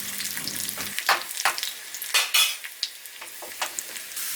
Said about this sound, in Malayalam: അതിലേക്ക് കുറച്ച് കറിവേപ്പില ഇതും കൂടെ ചേർത്ത് കൊടുത്തിട്ട് നമ്മൾ ഉണ്ടാക്കി വെച്ചിരിക്കുന്ന മീൻ കറിയിലേക്ക് ഒഴിച്ചു കൊടുക്കാം